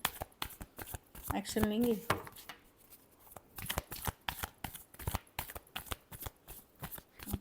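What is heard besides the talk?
shuffling tarot cards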